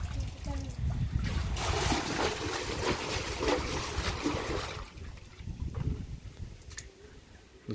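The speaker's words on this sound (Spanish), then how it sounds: "Es como le echan el agua para ponerle oxígeno a los que están acá para que sobrevivan" Water pours and splashes into a tank holding live mojarra fish in Guatemala to give them oxygen, a loud steady gushing that eases after several seconds, with people talking.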